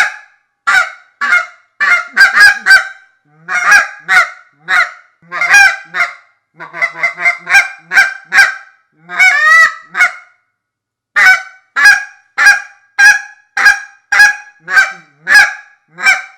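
A Honker Hatchet goose call blown by a hunter, giving a long run of loud, close, rhythmic honks and clucks in quick bursts with short pauses, imitating Canada geese.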